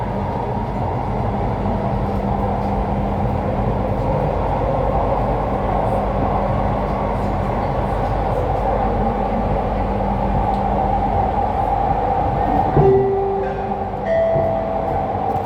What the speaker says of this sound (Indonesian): please move away from the train doors to make way for other passengers boarding the train